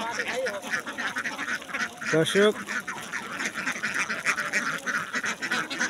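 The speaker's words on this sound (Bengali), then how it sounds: "দেখুন তার হাঁস" A flock of farm ducks foraging in an open field quacks steadily in the background, with a louder burst of calls in the middle, while someone speaks over them.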